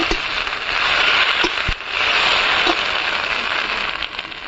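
Jute leaves frying in oil with garlic in a village kitchen: a steady, loud sizzle and crackle that runs the whole time with a few faint knocks and no talk.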